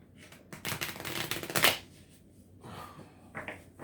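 Close-up riffle shuffling of a deck of cards, a few quick rattling bursts followed by softer handling noises, with no talking.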